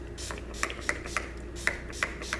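Short hissy bursts from an Urban Decay All Nighter Ultra Glow setting spray bottle, several quick spritzes in an irregular rhythm, close and fairly soft, with no talking.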